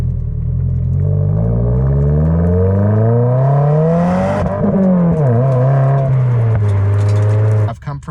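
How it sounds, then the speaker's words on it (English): A 2022–2023 Subaru WRX accelerating hard as its turbo spools up with a rising whine over the engine roar, then a brief stock blow-off valve whoosh as the revs drop, loud and close throughout. "you can hear the turbo kind of spool up and wind up, and you can hear kind of the blow-off valve a little bit that's stock"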